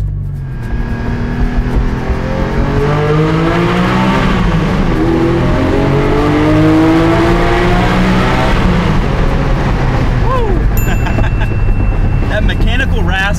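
Porsche 718 Cayman GT4 engine revving hard toward 8,000 RPM inside a road tunnel, a loud, rising mechanical wail with repeated climbs in pitch and strong echoing reverberation, close and continuous.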